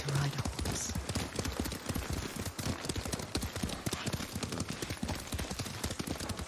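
Horse hooves clip-clop steadily in a quick riding rhythm throughout, close and fairly loud over a busy background, from the samurai action game Ghost of Tsushima.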